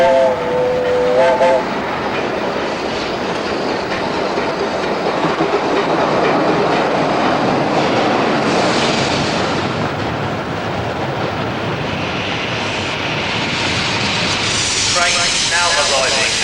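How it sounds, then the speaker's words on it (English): A train pulls into a station platform with a loud, continuous rumble and rolling rail noise, brief horn-like tones at the start and near the end. "Now arriving at platform 3 is the Foreign Legionnaire."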